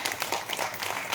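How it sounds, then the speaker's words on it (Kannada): Audience applauding at a district cabinet installation ceremony in Bengaluru, welcoming a DCP; steady, dense clapping from a crowd fills the whole moment without a break. "ಸ್ವಲ್ಪ ಎಲ್ಲ ಚಪ್ಪಾಳೆ ಹೊಡೆದ್ರೆ ಅವ್ರಿಗೂ ಕೂಡ ಒಂದು ಪ್ರೋತ್ಸಾಹ ಸಿಗುತ್ತೆ"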